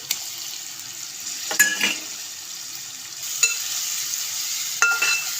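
Salted fish curry is stirred slowly in a frying pan: a constant loud sizzle with three separate scraping spoon strokes spaced a couple of seconds apart, and no voices.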